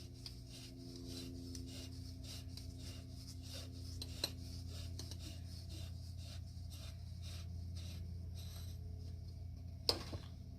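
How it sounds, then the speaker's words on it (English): A file twists inside the strut tube of a 1997 BMW 328i, giving a faint, rhythmic rasping and rubbing repeated over several turns, with one sharp metallic tick near the end. "Take our trusty file, shove her down in there and give her a few turns."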